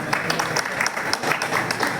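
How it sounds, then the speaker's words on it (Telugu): An audience at a farewell ceremony for a transport department administrative officer claps in a steady, loud round of applause, with a voice faintly heard beneath. "మీరు అందరు కలిసి గట్టిగా క్లాప్స్ అండి, చప్పట్లు."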